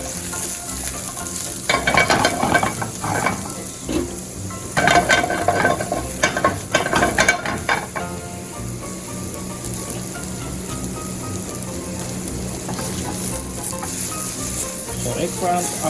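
Eggplant and beef sizzle and fry in olive oil in a pan for a Japanese dish, a loud steady crackle with bursts of stirring and louder spatters throughout, no talking.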